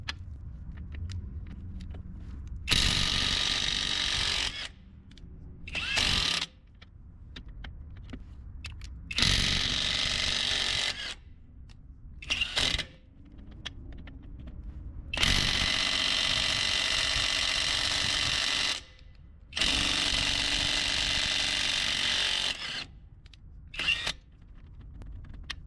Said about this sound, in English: I used the impact wrench to break loose all the other lug nuts